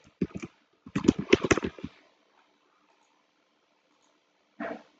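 Quick bursts of keystrokes on a computer keyboard, a short flurry near the start, a denser run of clacks through the first two seconds, then a pause and one last brief tap cluster at the end, close and fairly clear.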